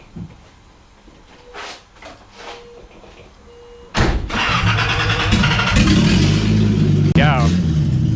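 A Datsun 280ZX with a newly replaced clutch is cranked after a few quiet clicks and clunks, and the engine catches and settles into a loud, steady idle with a short rev near the end.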